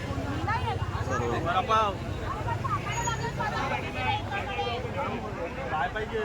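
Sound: crowd of tourists at Matheran

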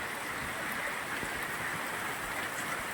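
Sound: rain falling

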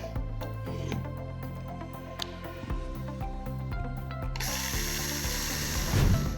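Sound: drilling a small hole in a roller shutter box

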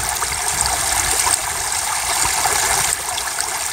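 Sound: small waterfall trickling water

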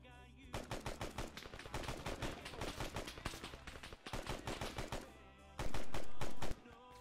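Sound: gunfire in the video game Arma 3

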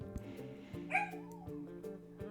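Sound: dog barking in the background

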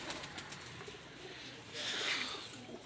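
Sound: pigeons cooing

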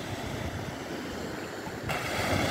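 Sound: sea waves on the Adriatic coast at Bibione

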